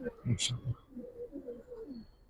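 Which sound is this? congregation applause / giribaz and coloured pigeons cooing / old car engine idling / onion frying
giribaz and coloured pigeons cooing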